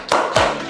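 Two sharp hand claps from a class in a rhythmic clapping game, close and loud, spaced about a quarter second apart.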